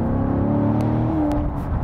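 Corvette C7 Stingray V8 engine pulling hard uphill in first gear on winding hillside hairpins, a steady loud droning roar with rising revs and a brief gear-like shift in pitch, heard close from inside the car.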